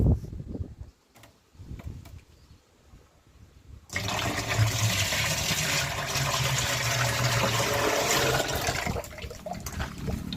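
Melted jaggery water gushes into a large 40-litre jaggery and grape bio-enzyme mix, starting after a few quiet seconds of light handling noise, then a loud, steady pour lasting several seconds before tapering off.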